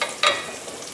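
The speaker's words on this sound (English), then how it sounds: "So we have a little heat here, we're getting the butter in there" Butter sweating in a pan over medium heat, not browning, for a mac and cheese: a soft, steady sizzle close by, with a brief brighter burst of crackle early on that settles into a faint hiss.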